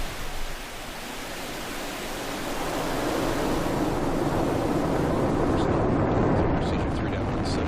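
A SpaceX Falcon 9 lifts off on the ZUMA launch, its engines producing a broad, continuous roar that swells and holds steady, loud and rumbling, with faint voices briefly audible beneath it.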